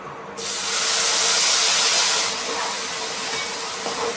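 Ground green chilli and garlic masala with turmeric hits hot oil in a pan and bursts into a loud, close, bright hiss. The hiss settles after a couple of seconds into a quieter steady sizzle.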